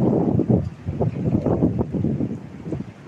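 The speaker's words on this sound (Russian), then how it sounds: "Ветер лютый сегодня." Strong gusty wind buffeting the microphone, a loud continuous low roar with irregular surges and no talking.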